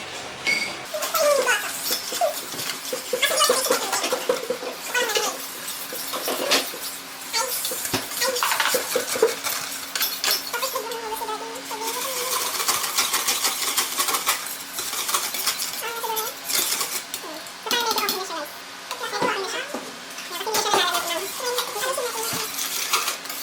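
Dalgona coffee being whisked by hand in a bowl without a mixer, a continuous busy clatter of a utensil scraping and tapping against the bowl with occasional faint background voices.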